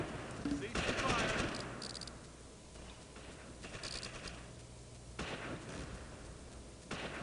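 Gunfire from the Close Combat: Invasion Normandy battle game, Allied airborne against Fallschirmjäger: bursts of rifle and machine-gun fire, loudest early and again near the end, with faint voices underneath.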